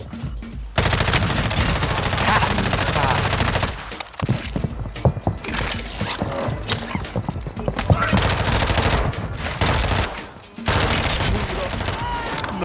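Rapid bursts of Vaznev SMG fire in Warzone 2 hammer loudly and nearly continuously, broken by a few brief pauses between sprays, with game effects layered underneath.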